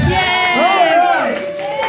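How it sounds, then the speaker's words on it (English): A crowd at a comic con trivia event in Albuquerque cheers and whoops, a loud, close mix of raised voices and shouts that rises and falls across two seconds. "So make sure to give him applaud, everybody."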